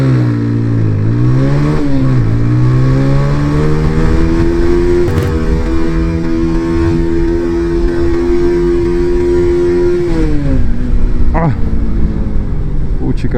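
Motorcycle fitted with a racing kit accelerating hard in second gear with the engine held high, a loud continuous rising roar whose pitch climbs, dips at a shift, climbs again, then drops off near the end.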